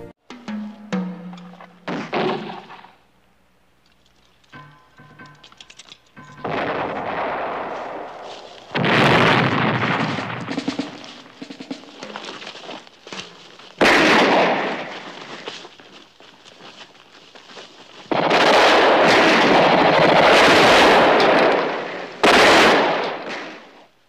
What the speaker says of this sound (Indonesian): pasukan Vietcong terlihat mulai menyerangi pos militer Mukwa dengan sebuah tembakan mortir